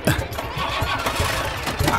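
A cartoon motorbike engine sputters and chugs through repeated starting attempts, with uneven bursts of mechanical rattle close up and no one speaking.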